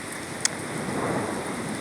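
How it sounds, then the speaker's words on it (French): Steady rain falling with a brief sharp crack near the start, a faint distant rumble of thunder under the continuous hiss of the downpour. "Je te laisse partager, je te laisse profiter de la pluie."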